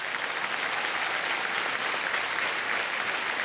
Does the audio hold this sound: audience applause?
yes